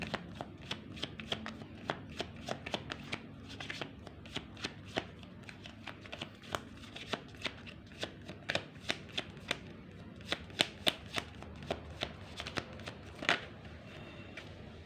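A deck of tarot cards is shuffled by hand in a steady run of crisp riffles and soft slaps, close and fairly quiet, with no talk.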